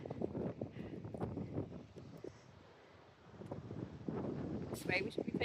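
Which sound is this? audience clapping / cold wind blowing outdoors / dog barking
cold wind blowing outdoors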